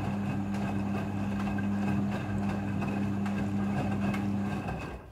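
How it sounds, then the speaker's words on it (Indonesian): A Midea front-loading washing machine runs a rinse cycle with a steady, loud motor hum and a constant droning tone. The faint sloshing and rumble fade out at the very end. "Mesin cuci front loading sudah full automatic dalam mencuci."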